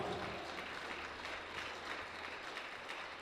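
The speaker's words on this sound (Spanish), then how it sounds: "Dale un aplauso al Señor." Worshippers at a church service clap together in a continuous, even burst of applause that fills the short span without letting up.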